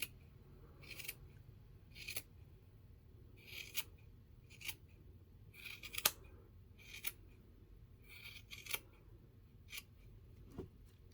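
Scissors snip crochet yarn while trimming a Santa hat Christmas ornament: about a dozen crisp, close cuts at irregular intervals, some in quick pairs, with quiet gaps between.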